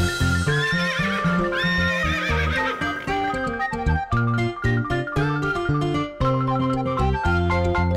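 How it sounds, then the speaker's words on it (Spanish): A farm horse whinnies loudly and its hooves clip-clop in a steady beat, set within a bouncy Spanish-language children's song about Old MacDonald's farm. "Y en esa granja tenía caballos, ia ia o."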